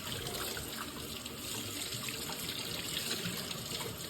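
Water running steadily from a newly installed kitchen mixer tap into a sink, a continuous close splashing hiss that stays even throughout with no talking.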